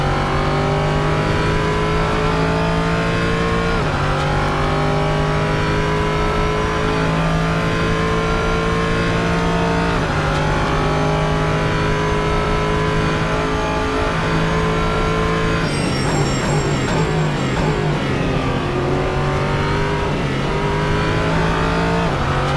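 An LMP3 prototype race car at Road Atlanta in Assetto Corsa screams loudly through repeated upshifts, the engine note climbing and dropping at each gear change, with a brief tire squeal near the end.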